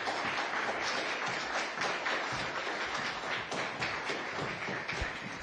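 An audience at a COP 28 climate finance panel applauds, a dense steady wash of many hands clapping that lasts throughout.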